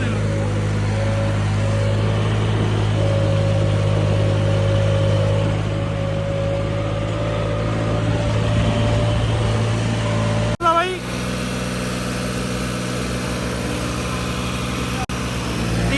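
A New Holland 3630 tractor engine runs at high revs with a steady, droning hum close by, cutting briefly near the end before settling again, while someone talks over it.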